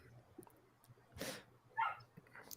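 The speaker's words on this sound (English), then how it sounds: "My dog's going crazy." A dog barks a few times, faint and far off, in short scattered yips against a very quiet room.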